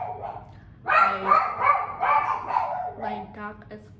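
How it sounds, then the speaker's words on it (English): A dog gives a run of barks and yips in a home in the evening, loud and close, mixed with a person's voice talking. "My dog is barking."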